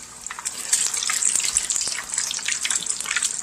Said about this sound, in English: you just want to set them in the oil slightly before you let go